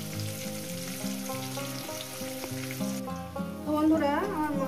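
Potatoes frying in hot oil give a steady, close sizzle throughout, with tonal music running over it and a slightly louder, busier crackle near the end.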